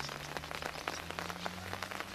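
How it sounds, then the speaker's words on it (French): Steady rain patters on surfaces at the start of a wet day's walk on the Camino de Santiago pilgrimage route, a dense, even hiss with scattered droplet taps and no voices. "départ sous la pluie"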